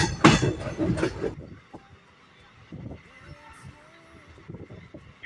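The Maa Tara Express passenger train between Kolkata and Tarapith rumbles and clatters along, louder at first then fading to a quieter rolling noise with occasional squeals.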